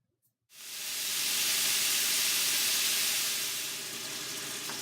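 Beef and chorizo browning in a pan give off a sudden loud, steady hiss and sizzle after a brief quiet moment, holding strong and even before easing slightly toward the end.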